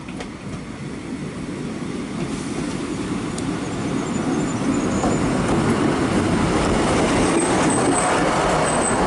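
A train rumbles into a small Welsh request-stop station, a broad continuous roar of wheels on rails, growing slightly louder with faint high squeals near the end.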